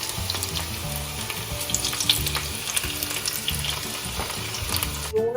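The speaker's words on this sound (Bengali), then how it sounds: "আলু ভাজা শুরু করে দিয়েছে।" Potatoes, larger ones cut in half, frying in oil in a home kitchen, a continuous crackling sizzle at moderate level with scattered sharp pops and a low hum beneath.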